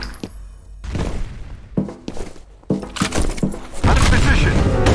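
An explosion in the multiplayer shooter F.E.A.R. Combat lands loud and close, with a booming, crackling burst that mixes with gunfire, footsteps and shouting players.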